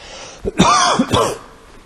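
A person imitates a deep, chesty cough: a few harsh, hacking bursts close to the mic.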